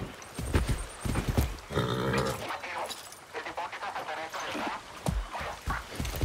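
A horse in the game Far Cry 6 clip-clops with hooves and gives a snorting neigh, with scattered bursts of movement and effects over a quiet background.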